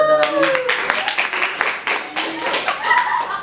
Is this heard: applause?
yes